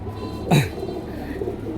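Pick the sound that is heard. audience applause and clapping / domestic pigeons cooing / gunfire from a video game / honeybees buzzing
domestic pigeons cooing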